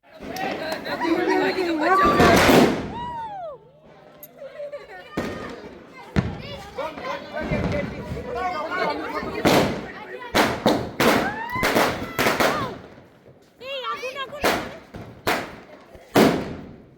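At New Year midnight, firecrackers and fireworks burst in sharp, loud bangs, spread irregularly and partly clustered, with whistling rockets rising between them, while people chatter and talk throughout.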